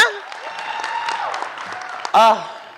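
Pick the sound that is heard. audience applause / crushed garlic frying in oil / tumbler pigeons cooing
audience applause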